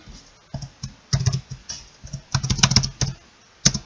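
Fingers type on a computer keyboard in short irregular bursts of crisp, close key clicks, with brief pauses between runs of keystrokes.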